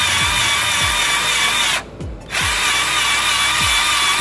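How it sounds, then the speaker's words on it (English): A power drill with a polishing cone whirs steadily up close on a wheel rim, briefly cutting out for a moment before spinning up again, with rhythmic scraping pulses from the pad. "I suggest you do this with the drill, with this polishing pad."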